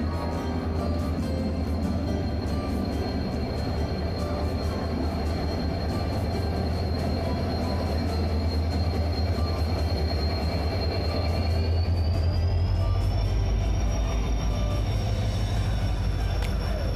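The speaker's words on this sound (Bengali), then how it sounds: "ট্রেনটা প্ল্যাটফর্মে ঢুকছে।" A train rolls into a platform at Howrah station with a loud, steady rumble of wheels and carriages. A thin tone rises near the end as the train keeps moving close by.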